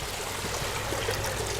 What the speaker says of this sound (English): the water just appears from the hillside with our waterfall diffuser